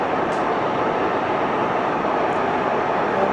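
An Aermacchi M-345 jet in X-Plane 12 gives off a loud, steady broadband engine roar that stays constant without change in pitch or level.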